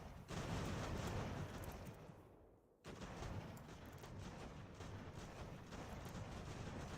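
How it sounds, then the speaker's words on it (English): Massed volleys of musket fire from troops in an Ultimate General: American Revolution battle, a dense continuous crackle of gunfire that dips briefly before resuming, with no talk over it. "I'm just going to focus fire on him"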